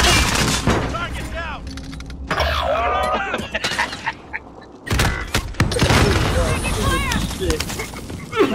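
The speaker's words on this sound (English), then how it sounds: "Oh, I'm taking fire!" Gunfire in the video game Warzone on PS4: repeated sharp shots and bursts, loud and close, with a player talking excitedly over much of the action.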